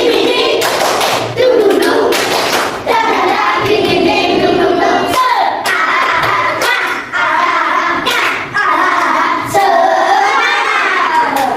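A classroom group performing the rhythmic 'tepuk semangat' clapping routine, with sharp claps and thumps in patterned bursts and voices chanting and speaking throughout.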